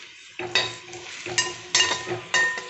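Beef fry, Thrissur-style idichathu, being stirred in a pan: a spoon scrapes and clinks against the metal in several uneven strokes over a soft frying sizzle, close and with no talk.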